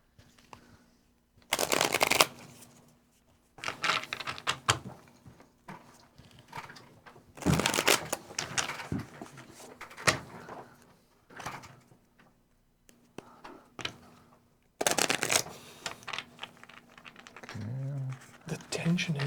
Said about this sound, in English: Shuffle the territory deck and place the draw pile here face down.